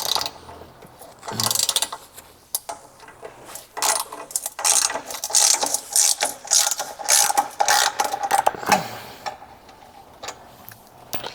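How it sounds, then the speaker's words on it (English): A 9/16 socket ratchet loosens the four bolts holding the plates on a hydraulic PWC lift, with close, sharp bursts of rapid clicking separated by short pauses. "I'm going to loosen the 4 bolts that hold these plates on."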